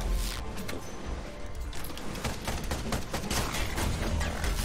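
A ship weapon firing in the video game Ironcast produces a loud, sustained barrage of rapid blasts and crackling impacts that runs on without a break, with no voices.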